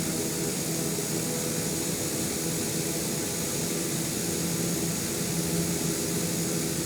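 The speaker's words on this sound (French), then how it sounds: "Voilà mon avion qui va démarrer" Steady, loud, continuous airplane engine roar as the aircraft starts up, a constant broadband drone without variation and with no voices.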